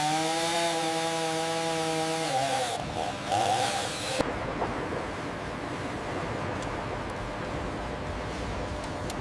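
A sawmill saw trims the end off a timber log. A steady whining buzz gives way to a harsh cutting roar that settles into a dense, continuous mechanical grind, with no voices.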